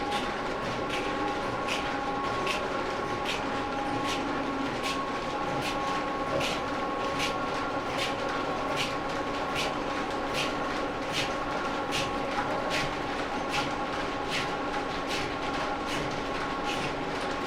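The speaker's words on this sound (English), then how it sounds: "this is an original wheel production line from the 1890s" Original 1890s wheel production line machinery running in a museum, a steady mechanical drone with a fast, regular rhythmic clatter repeating about twice a second throughout, fairly close and continuous with no talking.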